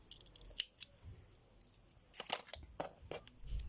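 Scissors snip the end of crochet yarn for a braided hair band, giving a few quiet, close metallic clicks and cuts with light rustling between them.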